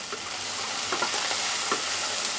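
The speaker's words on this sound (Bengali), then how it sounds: "1 চামচ পরিমাণ আমি তেল দিয়েছি, আর দিয়ে দেব একটু পেঁয়াজ কুচানো।" Chopped onion fries in about a spoonful of oil, producing an even sizzle with a few soft scrapes from stirring, close and moderately loud.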